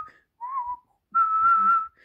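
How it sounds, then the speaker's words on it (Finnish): Two clear whistled phrases of a Finnish street song about the boys of the Sörkka back streets: a short note, a pause, then a longer sustained tune, close and alone. "Siellä kaikki viheltävät näin."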